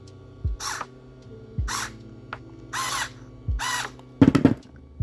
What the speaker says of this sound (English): Once again, the Dremel comes in handy.